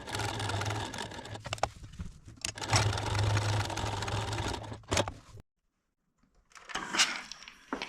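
A sewing machine stitches a potholder in close, steady mechanical runs with brief stops and clicks between bursts, then a short silence before stitching resumes.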